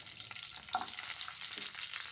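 Onions, curry leaves and finely chopped carrots fry in hot oil for pasta, giving a faint, continuous crackling sizzle with a light stir or two and no voices.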